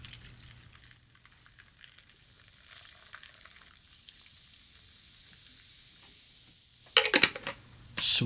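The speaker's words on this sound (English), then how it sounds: "Oh, yeah, top it with root beer." SodaStream root beer tops a rum cocktail, leaving a faint fizzing hiss in a quiet room, followed near the end by a few sharp glassware clinks and handling knocks.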